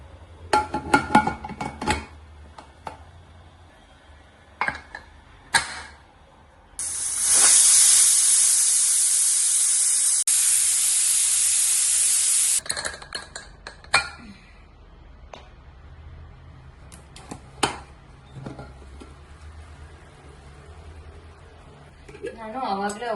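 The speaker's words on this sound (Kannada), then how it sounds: "So 2 whistle ಕೂಗ್ಸ್ಕೊಳ್ಳೋಣ." A pressure cooker cooking jeera sambar rice blows a loud, sustained hissing whistle for several seconds, close by, framed by someone talking and scattered kitchen clatter before and after.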